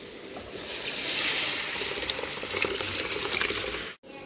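Cooked toor dal poured into simmering murungai keerai sambar and mixed, a dense continuous wet bubbling and sloshing rush, close and fairly loud, ending abruptly.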